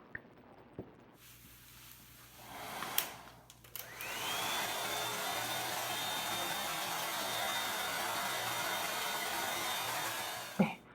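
A balance ion hair dryer blows on hair. After a few soft handling clicks it switches on with a rising whine, then settles into a loud, steady rush of air that lasts to the end.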